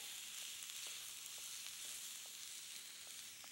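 Sausage simmering in a Dutch oven alongside eggplant, a soft continuous sizzle and bubbling hiss with faint occasional pops, heard alone at low level.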